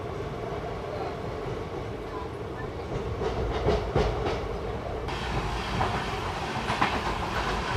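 An express train from Visakhapatnam to Machilipatnam runs along the tracks, heard from inside as a steady rumbling roar with rhythmic clickety-clack and brief louder passages, with faint talk underneath.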